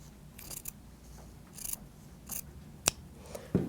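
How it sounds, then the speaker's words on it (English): Scissors snip through a strip of fabric in a few crisp, separate cuts close by, with quiet handling noise between them and no talking. "I can just take my scissors and cut that strip."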